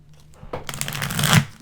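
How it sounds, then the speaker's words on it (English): A deck of tarot cards is shuffled by hand at close range in a quiet room, with soft riffling and flicking that builds to a brisk flutter. "I'm just going to carefully shuffle these cards here"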